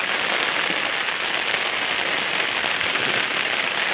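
Heavy rain pours down steadily around a village, a dense unbroken hiss of drops on surfaces that stays constant throughout without any voices.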